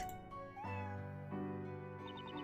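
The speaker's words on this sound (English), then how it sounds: "Sorry, it's my cat." Eve the cat from the video game Professor Layton vs Phoenix Wright meows faintly and tonally, blended into sustained background music.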